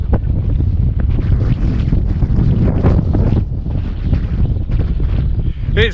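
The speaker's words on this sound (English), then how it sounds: "It's just too windy today." Strong gusty wind blasting across a hill slope, loud roaring buffeting against the microphone continuously throughout, with no voices.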